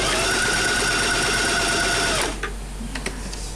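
A Singer 2250 sewing machine runs steadily for about two seconds with a loud, even mechanical whir, then stops abruptly. A few faint clicks follow in the near-silence.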